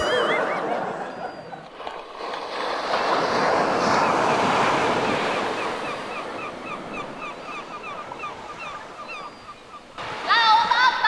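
Ocean surf rolls in on a beach at Laguna Phuket, Thailand, swelling and fading in a broad wash of noise with wind, and brief voices and sharper sounds near the end.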